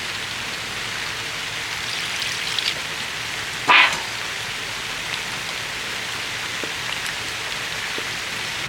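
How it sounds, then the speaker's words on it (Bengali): Steady rain falls outdoors at a village home kitchen, a constant soft hiss of drops on surfaces with a single sharp knock partway through and no voices. "আর বৃষ্টি পড়তেও শুরু হয়ে গেছে"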